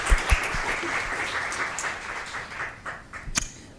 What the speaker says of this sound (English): How about a round of applause for Bonillas Elementary girls basketball?